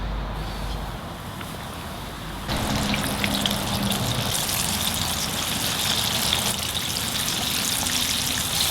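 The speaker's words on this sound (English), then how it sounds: "Once you add this in the fryer," Fried chicken drumsticks dropped into hot frying oil: a quiet hiss jumps into a loud, steady, bubbling sizzle that carries on close and unbroken.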